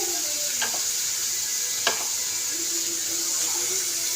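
Banana flower (mocha) dropped into hot oil in a pan for a vegetarian curry, making a steady bright sizzle with a few sharp scraping stir strokes, close and continuous.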